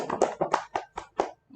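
A teacher's hands clap six or seven times in a quick, even rhythm during an online elementary school lesson, close and distinct, followed by a faint short sound.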